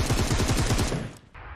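Rapid burst of gunfire in a PUBG-style shooter video game, about eight quick close shots in a steady rhythm, then the firing stops and a short quiet tail follows.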